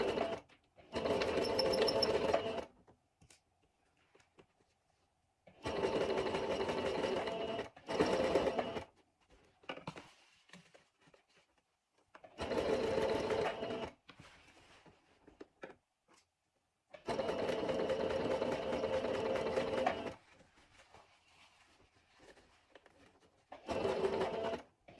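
Sewing machine stitching a trouser zip seam, beginning with a backstitch: several loud bursts of steady motor whirring lasting a few seconds each, separated by quiet pauses, close up with no talking.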